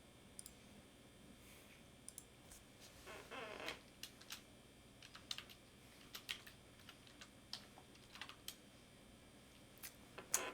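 Fingers type on a computer keyboard in quiet, irregular runs of close, crisp key clicks with short pauses between bursts.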